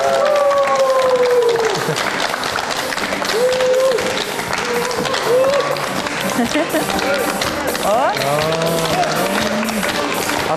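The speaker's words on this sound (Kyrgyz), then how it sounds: "Кол чабуулар болсун." Studio audience applause on a television show, a sustained patter of clapping running the whole length while people talk and call out over it.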